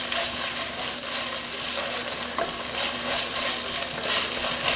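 A spoon stirs a mixture of garlic and fat cooking in a pot for an Italian-style roast, with steady close sizzling under soft scraping strokes, no voices.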